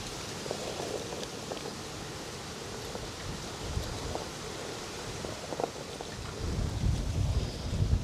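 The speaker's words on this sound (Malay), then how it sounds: "hari ni betul-betul kuat angin kadang-kadang" Strong wind blowing outdoors near petai and banana trees buffets the microphone in a steady roar with gusty surges that swell louder toward the end.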